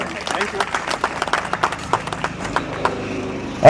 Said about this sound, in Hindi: सभी लोग तालियों से उनका स्वागत करें